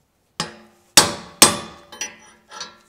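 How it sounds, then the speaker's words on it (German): A hammer strikes a homemade drift punch to knock out a part of a tank lock on a Honda CB900 café racer: five sharp metallic blows, the second and third loudest, with the last two softer and close together. "Ich versuche das mal gerade rauszuschlagen."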